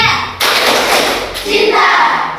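A primary school class clapping the tepuk cinta rhythm in a Civics lesson, several loud thumping claps close by with children's voices mixed in.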